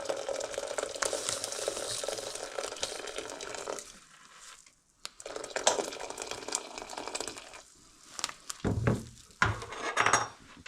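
Pike roe brine being stirred in a pot, with continuous watery swishing and scraping, a brief lull, then several knocks and clatters of the spoon against the pot, close and fairly quiet.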